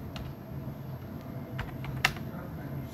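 Fingers type on a computer keyboard entering a search, a close run of light, irregular key clicks with one sharper tap, and no talk.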